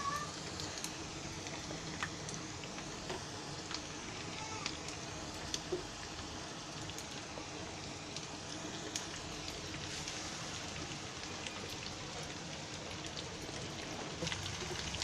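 Sliced bitter gourd sizzles in oil with onion and bay leaf in a pan over low gas, a soft, steady crackle with scattered pops throughout.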